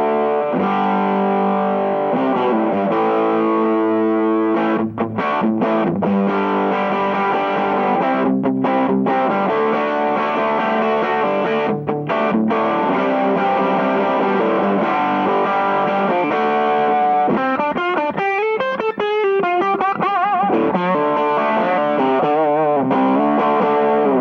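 Electric guitar through a 65 Amps amplifier with the volume turned all the way up, loud distorted chords and riffs with a few sharp stops, then a warbling modulated passage, sustained and unaccompanied.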